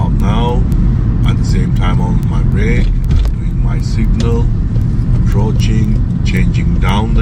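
A car drives at about 25 mph toward a roundabout, its low steady engine and road rumble filling the cabin while someone talks continuously over it.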